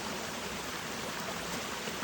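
A mountain stream along the Appalachian Trail flows steadily, a continuous broadband rush of water running close by with no pauses and no voices.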